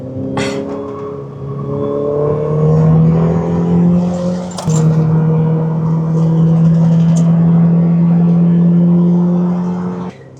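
A Ferrari F8 Tributo with a 3.9-liter twin-turbo V8 accelerates from inside the cabin, a loud sustained engine drone climbing in pitch with a sharp gearshift break partway through before it holds a steady roar.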